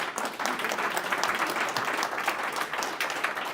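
Audience at a live multi-cloud tech meetup in Columbus, Ohio applauds after a talk, a dense, steady burst of many hands clapping, fairly close and lively throughout.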